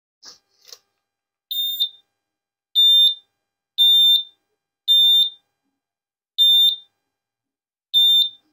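Beeps from a CrossFit box timer: six loud high-pitched electronic tones at uneven spacing, each about half a second long with silence between them, after a couple of faint soft knocks at the start.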